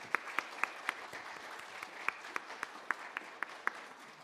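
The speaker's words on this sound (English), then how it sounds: "let's give a round of applause to all of our wonderful community partners" A sparse round of applause at a museum opening celebration, about a dozen distinct, separate claps ringing out at an even, moderate pace from a small, fairly quiet group.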